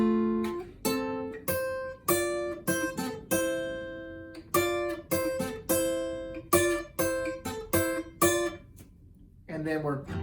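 The intro to a song is picked on guitar as a run of clear, separate notes. Each note rings and decays in a steady rhythm, played alone and up close.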